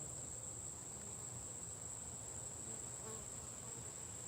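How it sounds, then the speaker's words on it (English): Honeybees from a nearby hive buzz around a bucket of water outdoors, a soft, constant hum of many insects with no voices. "You see the bees around me, they come into this bucket of water next to me."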